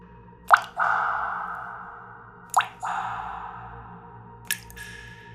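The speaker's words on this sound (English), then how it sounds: "The sound of water" Three water drips fall at spaced, slow intervals in a hotel bathroom, each a sharp plop followed by a ringing resonant tail in a quiet room.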